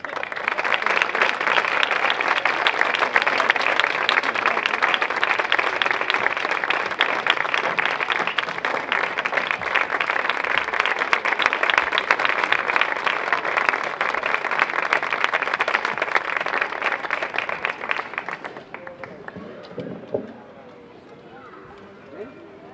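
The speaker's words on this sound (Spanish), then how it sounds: "Recibamos con un fuerte aplauso a su director" A concert audience at a wind band concert applauds the band director, sustained, even clapping for about eighteen seconds before it abruptly dies away, leaving faint room noise and a few stray sounds.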